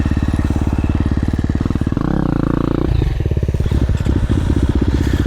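A KTM 350 dirt bike engine fitted with an FMF exhaust, revving up close in a loud, rapid pulsing drone with a brief clattering, scraping stretch mid-way, no talking.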